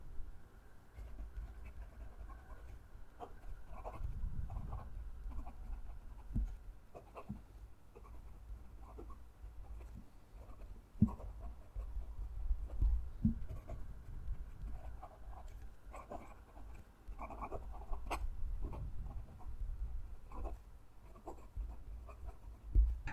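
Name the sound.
Kanwrite Heritage Ebony fountain pen writing on paper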